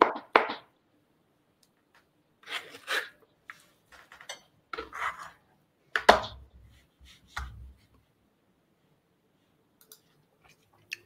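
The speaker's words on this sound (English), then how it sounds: "So I'm just chopping up this avocado" Knife chopping an avocado: scattered sharp chops and clicks come in short clusters, close and fairly loud, with quiet gaps between them.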